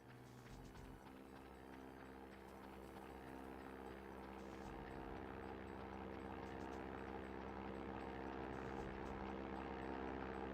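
Airplane engine in the video game 007: The World Is Not Enough, a steady droning hum with a repetitive throb that holds constant and grows slightly over about ten seconds.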